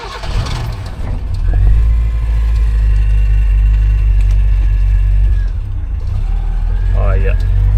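A repaired Suzuki SJ410 4x4 engine runs loud and close, with a low rumble that rises as it revs, then settles back to a slightly uneven idle, with speech over it.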